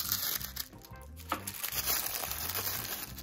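Decorative paper wrapping on a Disney ILY 4EVER doll playset toy is pulled open and crinkled close up, a steady run of crisp rustling and crackling with no pause.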